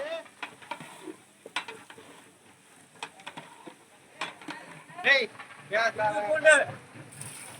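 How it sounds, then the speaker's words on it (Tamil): A huge 45 kg batch of mutton for biryani is mixed in a large pot, scraping and clattering stirs with moist sizzling that grow louder and busier toward the end, while people talk nearby. "மட்டன் நாற்பத்தஞ்சு கிலோ நல்லா மிக்ஸ் பண்ணுப்பா"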